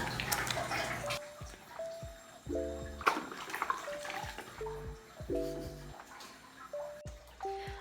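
Water runs and splashes during a bath in Benguet, a continuous wash with scattered drips and spatters, joined by faint tonal sounds in the background.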